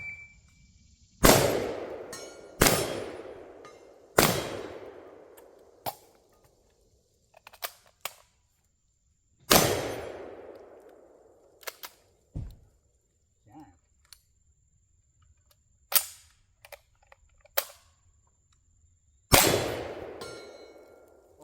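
Loud, sharp gunshots from a semi-automatic 9mm rifle and a pump-action shotgun at a home defense shooting class, fired as about nine blasts at irregular intervals with ringing decays, plus lighter clanks and clicks between shots.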